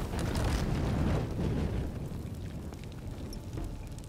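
Burning oil igniting in Shadow of the Tomb Raider, a loud whooshing, crackling roar of flame that is strongest at first and then settles into a steady fiery rumble.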